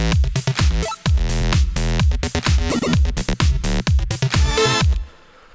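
An 8-bit electro house synth bass line with drums: punchy kicks on a steady four-on-the-floor pulse under a buzzy, chiptune-style bass riff, loud and driving, cutting off abruptly near the end.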